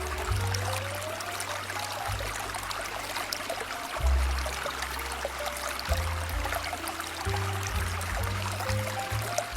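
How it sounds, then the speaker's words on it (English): Water runs and trickles steadily through open irrigation ditches in Gunnison, Colorado, a continuous gurgling flow with a low droning hum underneath. "and you hear the sound of water everywhere."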